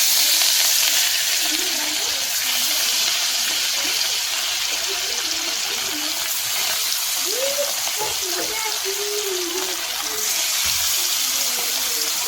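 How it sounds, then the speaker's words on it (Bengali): Fish such as tilapia and parshe frying in mustard oil in a wok makes a loud, dense, hissing sizzle that runs steadily throughout, with faint voices murmuring underneath. "এবার মাছটা ভেজে তরকারি করব"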